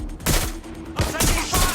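Rapid gunfire in Watch Dogs Legion, several close, loud bursts of shots cracking in quick succession over a short stretch.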